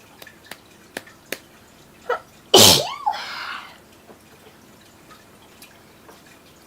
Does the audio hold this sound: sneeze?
yes